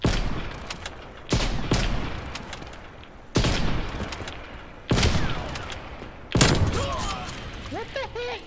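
Gunfire in an online shooter video game, five sharp loud bursts of automatic fire at roughly one-and-a-half-second intervals, each decaying quickly, with players talking over it.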